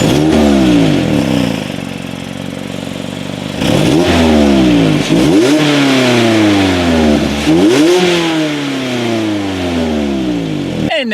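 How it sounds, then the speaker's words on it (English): A 2016 Mazda MX-5 Miata's dual exhaust revs repeatedly, the engine climbing and falling through several sharp throttle blips, loud and close with no talk. "there is a dual exhaust setup. So as always, here is that exhaust clip"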